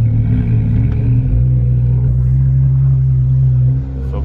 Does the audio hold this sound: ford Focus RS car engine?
yes